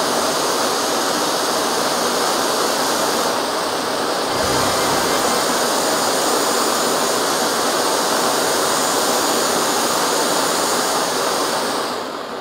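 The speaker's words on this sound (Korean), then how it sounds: "최대로 틀면은 이제 3000W 정도 되는 화력이 나온다고 하는데, 강력하네요." An ultra-compact mini camping gas burner, rated around 3000 W, roars at full flame, a loud steady hiss lasting several seconds with a brief dip partway through and no talking.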